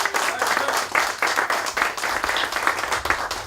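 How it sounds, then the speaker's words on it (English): An audience at a community meeting applauds a local chamber of commerce member, a short burst of moderately loud clapping that stays fairly even throughout. "Claire Lauder from the West County Chamber deserves a round of applause for her work."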